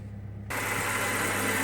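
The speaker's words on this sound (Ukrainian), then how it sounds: "Так, так працює машинка, вона холодна, сьогодні ще не заводив" A cold Chery Amulet engine, just repaired, starts and settles into a steady idle: a low continuous hum with a faint background drone before it, running evenly and close by with no talking.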